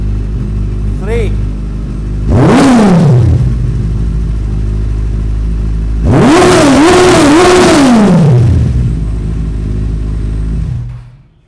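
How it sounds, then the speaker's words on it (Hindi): Inline four-cylinder motorcycle engine revved hard in a heavy-bike showroom; idle rumble broken by two loud throttle blips, the second a longer series of rising and falling revs, close and loud before cutting off. "इनलाइन 4 सिलेंडर अपनी पूरी आब और ताब के साथ"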